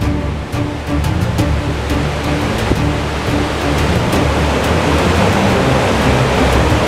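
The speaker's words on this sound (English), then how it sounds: "Oh, we're going down the rapids!" Rushing river rapids in a gorge, a loud, continuous broadband roar of turbulent water heard close up and steady throughout, with no talk.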